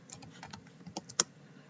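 Quiet typing on a computer keyboard during Python coding work, a short run of soft, irregular key clicks with one sharper, louder keystroke near the end.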